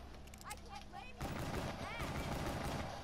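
Rapid gunfire from Black Ops 3 Zombies erupts midway as a dense, loud burst of repeated shots, preceded by quieter game sounds with brief voices over it.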